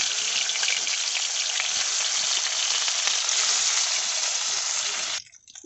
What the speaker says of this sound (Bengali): এবার মাছগুলোকে হালকা করে ভেজে নেব